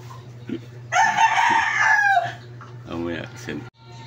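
A rooster crows once, loud and close, followed by a few clucks and a short human voice over a steady background hum.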